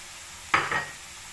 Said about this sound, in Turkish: Şimdi yumurtalarımı da ilave edeyim. 3 tane yumurta kırdım.